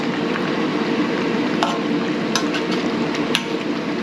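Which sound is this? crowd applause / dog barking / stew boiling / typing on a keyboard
stew boiling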